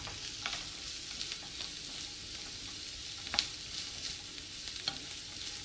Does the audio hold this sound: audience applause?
no